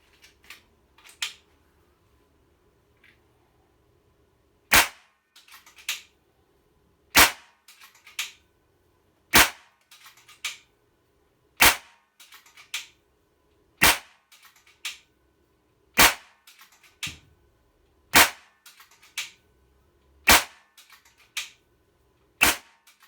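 A Kral Puncher Jumbo air rifle fires a full magazine: about a dozen sharp, loud cracks spaced roughly two seconds apart, each followed by faint mechanical cocking clicks, in an otherwise quiet setting.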